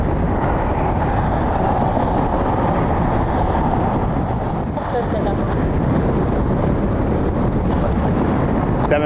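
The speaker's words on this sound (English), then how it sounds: "I was afraid it might be way too windy." Strong wind buffets the microphone at an airport, a loud, continuous roaring rush that barely lets up over the whole stretch.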